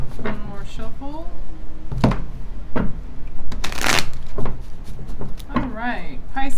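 Tarot cards shuffled by hand in several quick riffling bursts with soft thumps of the deck between them, close up, while a person talks throughout.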